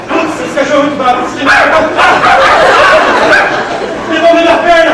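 A person imitates angry dogs with rapid, loud barking and yipping vocal sounds, close to the microphone, mixed with laughter and chatter from others.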